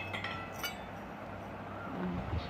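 Small miniature iron oil pot being handled, giving a few faint, light metallic clinks near the start, then a quiet room tone with soft handling noise.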